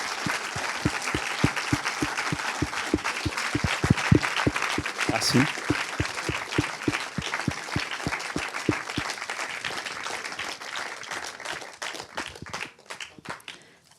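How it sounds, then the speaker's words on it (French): An audience applauds a director after an avant-première screening of his film La Mer au loin: dense, steady clapping with a loose rhythmic pulse that thins out toward the end, and a single voice speaks briefly. "Vous pouvez bien l'applaudir."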